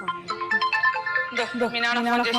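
A melodic phone ringtone plays a bright, repeating tune, close and clear, building slightly in fullness toward the end.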